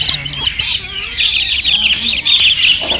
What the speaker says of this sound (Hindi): यहाँ पे पिंजरे में एक साथ बहुत सारी पहाड़ी पैरट्स रखे हुए थे।